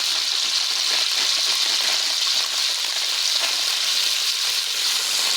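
Pasta sizzles and fries in hot oil in a pan, a loud, dense, continuous crackling sizzle with no voices.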